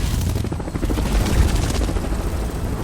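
A helicopter in an action film scene atop a building, a steady loud rotor thrum with dense low rumble and a few sharp impacts mixed in, no voices.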